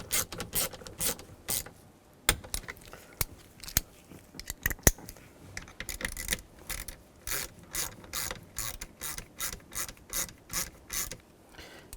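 Ratchet clicking in quick repeated bursts while snugging down the bolts of a cruise control combination switch on a 2000-2006 Chevy Tahoe, the sharp pawl ticks close and steady with short pauses between strokes.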